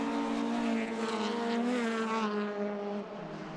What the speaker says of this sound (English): So great variety of cars going through: a Civic, 2 Celicas, and an MX-5 having a real go.